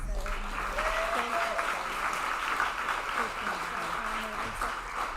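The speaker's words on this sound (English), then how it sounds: "Give her a round of applause." Audience applause at a Disability Mentoring Day kickoff reception, sustained clapping from a room of people with voices and some tonal sounds mixed in underneath, steady and fairly even throughout.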